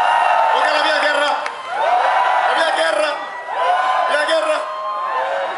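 At Jurassic Rock festival in Mikkeli, the audience cheers in three loud surges of whoops and yells, each dipping briefly before rising again, with a voice over the crowd between bursts.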